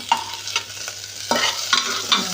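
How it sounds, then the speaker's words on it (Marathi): Onion sautéing in a pan for pea pulao: close, bright sizzling with several sharp spoon stirs and scrapes in quick succession, no voices. "आता हा कांदा मी परतून घेणार आहे आता कांदा छान परतत आहे आपला"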